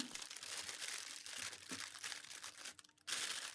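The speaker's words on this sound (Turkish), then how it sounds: "Borcamımdaki yemeğimin her yerini folyo ile kapatıyorum." Two layers of aluminium foil crinkle and rustle continuously as they are pressed over a glass baking dish of chicken and vegetables, close and fairly quiet, with a short pause near the end.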